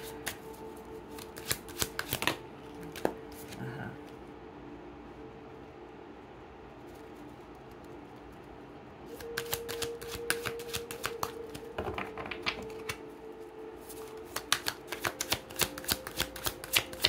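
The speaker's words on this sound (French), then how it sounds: "Je vais vous sortir 6 cartes." Tarot cards shuffled and drawn at close range, quick riffling bursts and sharp slaps separated by quiet pauses, with no talking.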